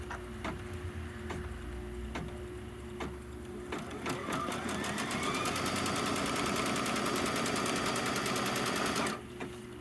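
A Kimberbell embroidery machine stitches a seam line, first a few spaced taps, then a fast, steady mechanical chatter of needle strokes with a whirring motor, close and loud, stopping abruptly near the end.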